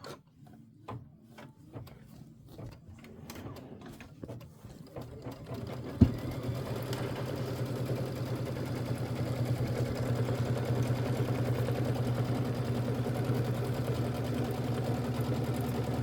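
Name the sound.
sewing machine stitching a hot pad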